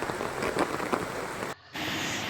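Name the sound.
heavy rain in Chennai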